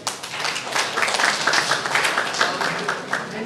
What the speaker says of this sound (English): Another hand of applause.